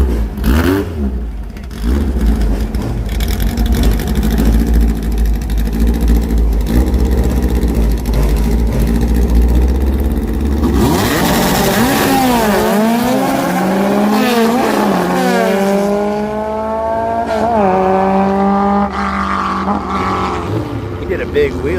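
On a race track at night, a motorcycle engine roars loudly and steadily, then climbs through repeated rising revs with gear changes as the bike accelerates hard into a wheelie.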